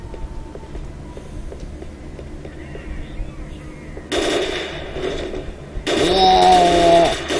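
Enemy gunfire in S.T.A.L.K.E.R. Shadow of Chernobyl, with faint distant pops and then two loud, dense bursts of shooting up close, the second louder and sustained.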